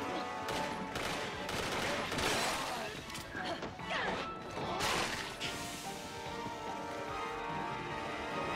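Gunfire and headshots against enemies in Resident Evil 6, Ada's campaign: repeated sharp crashing shots and impacts in clusters over a dense game soundtrack, with talk heard now and then.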